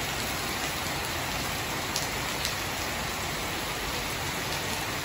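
Heavy summer rain pours down in Vietnam after a long heat wave, a loud, dense, unbroken hiss of falling water and drops drumming on surfaces, filling the whole stretch with no voices.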